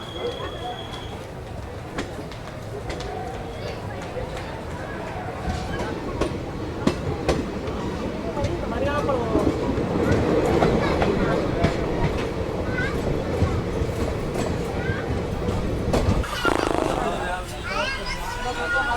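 A crowded sleeper-class train pulls out on the Jodhpur to Ahmedabad route and rolls on with a loud, steady rumble and rattle of carriages, a rhythmic clatter building, while passengers chatter nearby.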